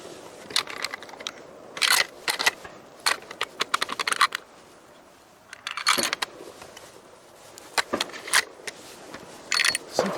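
A hunting rifle's bolt is worked and jams during an Oregon blacktail deer hunt, giving close, sharp metallic clacks and rattles in irregular bursts with quiet pauses between.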